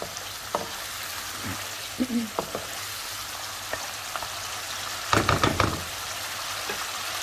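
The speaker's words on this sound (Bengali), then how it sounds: "আমি আর কিছুক্ষণ প্রায় মিনিট 2-এর মতো আর একটু কষিয়ে নেব।" Spices and garam masala frying in mustard oil in a pot for a country duck curry, a steady close sizzle with occasional knocks and stirring clatters, including a louder burst of scraping near the end.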